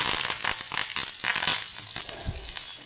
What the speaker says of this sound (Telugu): కొన్ని ఎండుమిర్చి వేసి పోపును దూరగా అయ్యేంతవరకు చేసుకొని అందులో కరివేపాకు వేసేస్తుంది